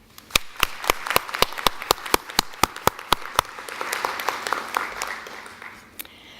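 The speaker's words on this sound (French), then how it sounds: "ce CODERPA mérite nos applaudissements et nos remerciements" An audience applauds the CODERPA with a series of sharp, evenly spaced claps rising into a fuller round of clapping, fairly close, ending with a final clap.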